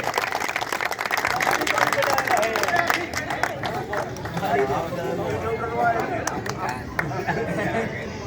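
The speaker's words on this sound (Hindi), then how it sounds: "एक बार पुनः तालियां, तालियों की गड़गड़ाहट होती रहनी चाहिए।" Applause from an audience at a Holi song event, a steady crowd sound with chatter mixed in throughout.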